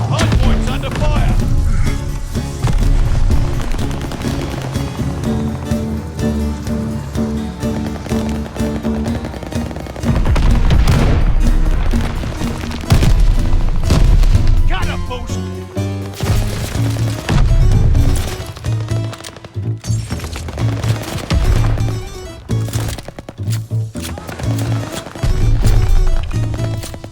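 Call of Duty multiplayer combat at a hardpoint: dense, loud machine-gun bursts, rapid gunfire and occasional booms rattle almost continuously, with faint game voices mixed in.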